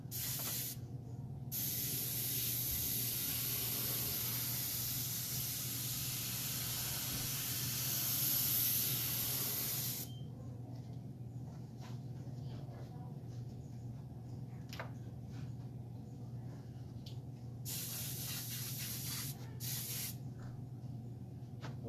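An airbrush sprays turquoise and blue paint onto a license plate, giving a steady, close hiss that runs continuously without any talk. The hiss swells louder midway and then settles into a softer spray with brief pauses.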